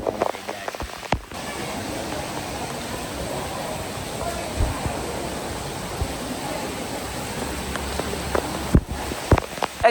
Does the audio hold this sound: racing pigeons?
no